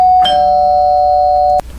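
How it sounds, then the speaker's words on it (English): An airplane cabin ding chime sounds once, loud and close, a clear sustained electronic tone ringing for over a second before cutting off, with no talk over it. "when you hear the ding, you may get off, because we have arrived at an airport"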